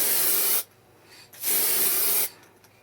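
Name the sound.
aerosol lacquer spray on a guitar headstock decal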